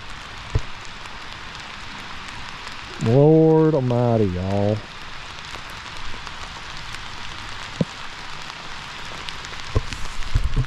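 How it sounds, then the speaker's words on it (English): Heavy rain pouring down on the Tennessee River during a kayak catfishing trip, a dense steady hiss throughout with scattered louder drops, while a man briefly exclaims over it near the middle. "This is the hardest rain we've had out here yet."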